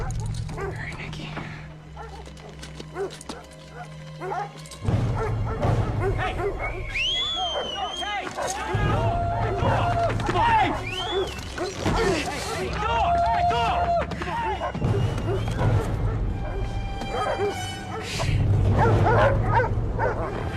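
Hungry dogs in a forest whimper, yip and give occasional barks in a long, restless sequence of high whines, with people talking over much of it.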